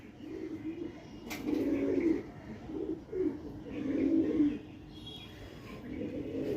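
Racing pigeons cooing close by, low throaty rounded phrases repeating in several bursts over a steady background hum.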